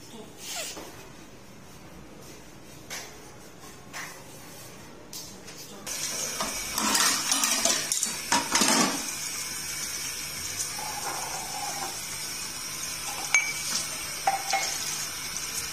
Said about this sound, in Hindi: ताकि मैं बर्तन जो है जल्दी से धो लूं